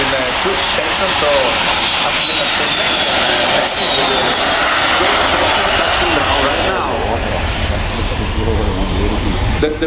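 Frecce Tricolori jet aircraft land at the RIAT air show. Their engines make a loud, continuous roar with a high whine sweeping across it, and a public-address commentator talks over the noise throughout.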